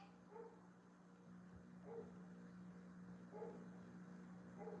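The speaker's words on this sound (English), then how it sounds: "Let's taunt the dog so it's barking and barking." Faint, distant dog barking: three or four short, separated barks over a low background hum.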